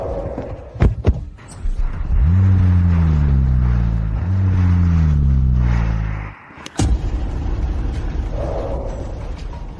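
A car's engine rises into a steady throbbing drone, eases briefly, swells again, then cuts off with a thump, followed by faint background noise. No one speaks.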